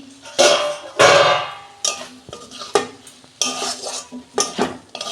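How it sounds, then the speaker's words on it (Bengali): A metal lid comes off a pan of prawn thor curry, followed by clanking of a spoon stirring against the pan and a soft sizzle; several sharp metallic knocks and scrapes stand out, close and loud, with no talking. "ঢাকনা আমি খুলছি"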